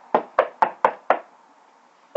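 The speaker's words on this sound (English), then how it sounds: "Mr. Greedy knocked on the door." Knocking on a door, five sharp, evenly spaced raps in quick succession, close and crisp, then a pause before a voice begins at the end.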